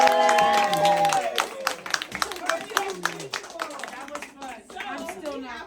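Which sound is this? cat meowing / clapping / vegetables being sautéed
clapping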